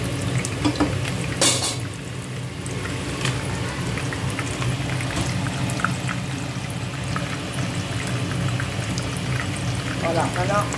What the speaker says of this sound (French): Je vais vider un peu d'eau, je pense qu'il y a de l'eau en bas.